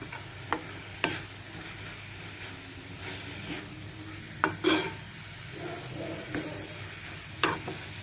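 Onion frying in a pan while being stirred, with masala and chilli powder just added: a low steady sizzle broken by sharp scraping stirs, spaced irregularly and heard up close.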